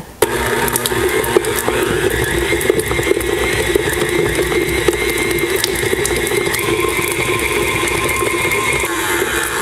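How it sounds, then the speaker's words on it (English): An electric mixer whirs steadily as it beats two sticks of butter until fluffy for shortbread cookies, a continuous loud mechanical drone with faint rattling, heard alone without talk. "we're going to go ahead and beat this until fluffy, about 1 minute."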